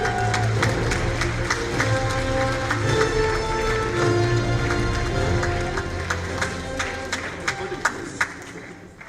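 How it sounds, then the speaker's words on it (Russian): Applause from the audience at the opening ceremony of the 19th Kazan International Muslim Film Festival: steady, dense clapping that fills the whole stretch with a few sharper claps near the end. "Ваши аплодисменты."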